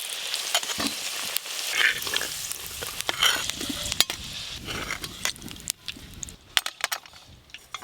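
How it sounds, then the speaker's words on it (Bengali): Potatoes fry in oil until red-browned, with a crackling sizzle broken by repeated sharp clinks and scrapes of a spatula stirring the pan, close by and uneven. "এই যে আলুগুলো লাল লাল করে ভাজা হয়ে গেছে।"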